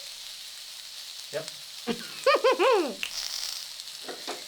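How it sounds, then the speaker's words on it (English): Onions sizzle steadily in a grill pan, a continuous moderate frying hiss beneath brief speech from people nearby. "While the onions sizzle?"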